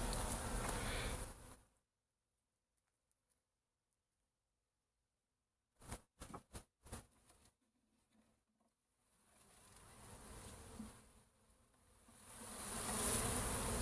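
A honey bee swarm buzzes loudly around a nearby beekeeper outdoors, fading out for several seconds, broken by a few sharp knocks, then swelling back into a dense, close hum.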